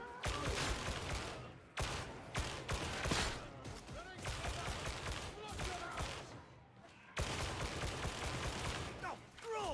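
Rapid bursts of gunfire in Darktide, dense and loud, with several short breaks between volleys and a voice briefly heard over the shooting.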